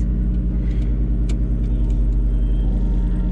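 A small turbocharged Daihatsu Mira L200S kei car engine idles steadily up close, a low continuous rumble with faint clicks and ticks on top.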